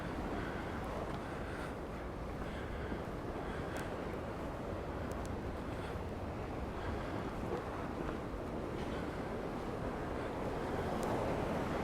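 Sea waves roll against the harbour wall at Port d'Andratx, Mallorca, a continuous broad rumble of surf mixed with wind buffeting the microphone, with occasional brief splashes breaking through.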